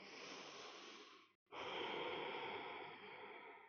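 Ujjayi breathing during a yoga practice: a long, steady, hissing breath close to the microphone, broken by a brief pause before a second breath.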